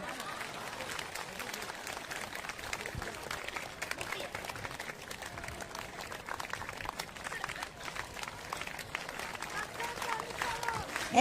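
A crowd claps steadily at a Gujarati devotional gathering where Shiva hymns are sung, a dense, even patter of many hands that holds for the whole stretch, with a voice carrying over it.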